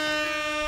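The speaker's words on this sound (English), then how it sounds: "You're getting an air horn, my friend." A loud, sustained air horn blast with a harsh, brassy multi-tone sound, lasting under a second.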